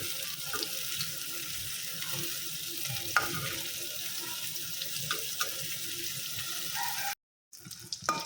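Hilsa fish frying in a pan, a steady broadband sizzle with scattered pops and light clinks running continuously, broken by a brief dropout near the end before the sizzle resumes.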